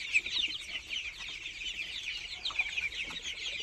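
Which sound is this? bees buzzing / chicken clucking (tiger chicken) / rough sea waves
chicken clucking (tiger chicken)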